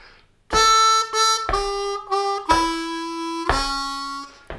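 A harmonica plays a short lick over the four chord with draw bends: a string of separate, clearly articulated notes, some slid or bent, played solo up close, ending on a longer held tone.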